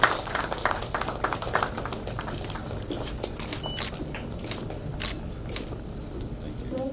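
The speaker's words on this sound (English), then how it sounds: "a big round of applause, please" Applause from a meeting audience on agrifood value chains in Odisha: a steady wash of many hands clapping at moderate distance, dense and sustained throughout, thinning slightly toward the end.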